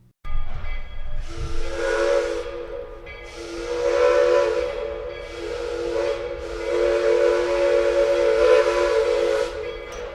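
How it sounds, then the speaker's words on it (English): A 4-chime Kinsley barrel steam whistle on the Hillcrest Shay locomotive blows a series of loud, sustained chord blasts with breathy steam hiss, separated by short gaps, the final blast drawn out longest. "they used this 4-chime Kinsley, also a barrel model. And here's how it sounded."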